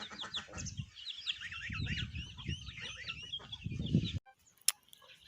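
Geese with their five goslings move about on a farm, giving soft cackles and high peeping calls over scratchy rustling, close by, ending abruptly in near silence.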